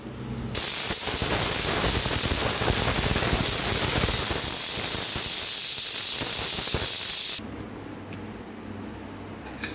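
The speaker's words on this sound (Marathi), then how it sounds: "आता बघा कुकरची शिटी गेलेली आहे" A pressure cooker whistle releases a loud, continuous hiss of steam for several seconds while cooking masala rice, then cuts off abruptly, leaving quiet kitchen background.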